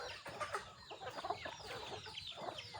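Young hens cluck in short, soft bursts, several birds murmuring close together against a faint farmyard background.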